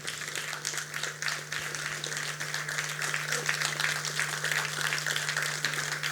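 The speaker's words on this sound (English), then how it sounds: "A big round of applause for him." Steady applause from a conference audience fills the space evenly, a dense wash of many hands clapping at moderate loudness with a low constant hum beneath, no voices standing out.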